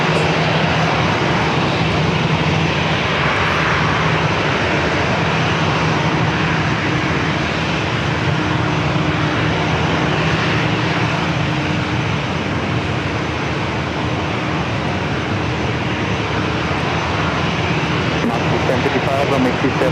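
A Breeze Airways Airbus A320-300 at San Diego airport gives off a continuous loud jet engine roar and rumble, steady throughout, with a voice talking over it.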